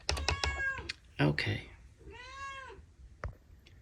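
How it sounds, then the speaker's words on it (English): A cat meows several times indoors, close and clear, its calls interleaved with a person's speech. "Oh, hello. Hi, kitty."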